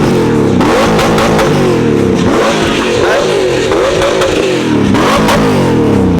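A Mercedes AMG naturally aspirated 5.5-litre M113 V8 revs repeatedly at a car show, loud and close, with several rising and falling throttle blips and a harsh mechanical edge.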